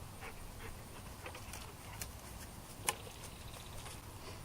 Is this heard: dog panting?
yes